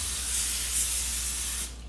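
Cooking spray hisses steadily onto parchment paper in a cake pan for a vegan cheesecake, one continuous close spray that cuts off near the end.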